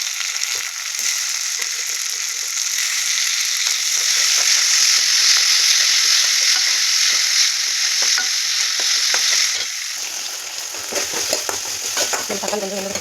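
Chopped tomato goes into a hot pan and is stirred while frying, a loud steady hiss of sizzling that eases after several seconds, broken by spatters and scraping strokes of a spoon against the pan.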